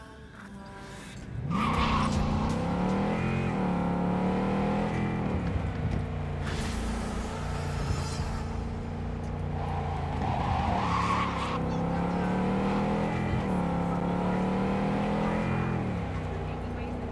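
A car in Cyberpunk 2077 pulls away with an engine that revs up and drops through gear changes, tyres squealing briefly, loud and steady after a quiet start, with a voice speaking partway through.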